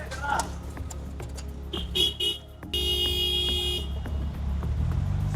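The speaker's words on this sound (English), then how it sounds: "you'll hear the beeping in the background because the Romans are just so aggressive" Car horns beep and honk repeatedly amid steady street traffic rumble in Rome, with one long sustained honk near the middle.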